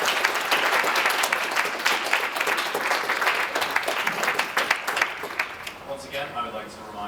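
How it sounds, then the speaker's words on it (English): An audience at a university political debate gives the moderators and organizers a sustained round of applause, loud and dense clapping that thins toward the end as a voice begins speaking. "Let's hear it one more time for our moderators and everyone who made this happen"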